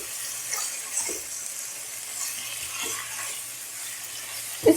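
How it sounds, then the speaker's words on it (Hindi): Chicken pieces fry in a pan with a soft, steady sizzle and occasional light clinks and stirring sounds, fairly quiet and alone. "चिकन को हम 5 मिनट इस तरीके से फ्राई करेंगे।"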